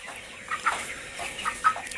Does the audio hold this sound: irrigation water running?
no